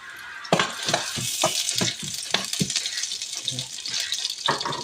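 Fish sautéed with ginger in a hot pan: a bright, continuous sizzle with rapid scraping stirs and clinks of a utensil against the pan, close up, with a voice speaking briefly over it.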